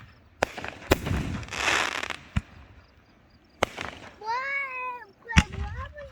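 Cake fireworks at a family farm display fire a string of sharp, loud bursts with crackling tails and whistling rises, some near and booming, while voices talk and react between the shots.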